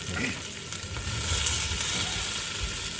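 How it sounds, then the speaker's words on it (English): Onions sizzling in a hot pan for a steak sandwich, a loud continuous crackling fry close up, with stirring and a voice faintly under it. "Right, let's get these cooked up. Soften the old onions a bit."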